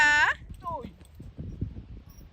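A brief whinny-like call opens, then hooves thud on soft ground in an uneven, galloping rhythm, fairly faint and moving.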